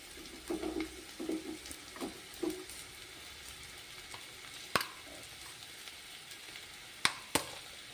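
A tempering fries in oil until golden, a faint soft sizzle underneath a few dull scraping stirs early on and later some sharp clicks of a spoon against the pan, quiet and close.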